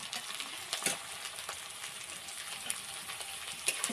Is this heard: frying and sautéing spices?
yes